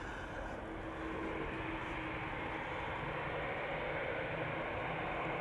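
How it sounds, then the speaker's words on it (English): A KLM Boeing 787-10 Dreamliner, four years old and bound for Bogota, departs on a snowy day at Amsterdam Schiphol, its jet engines a steady broadband roar that holds loud and constant throughout. "This is KLM Flight 749 outbound Bogota, Colombia. Boeing 787-10 Dreamliner."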